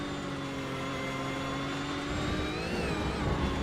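GT3 racing car in a sim race at Hockenheim on a wet track, its engine droning loudly and steadily before the revs spike sharply near the end as traction breaks.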